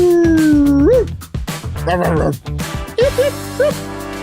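Several dogs howl loudly and up close, in rising and wavering cries that overlap and break off, then return as shorter yips and howls.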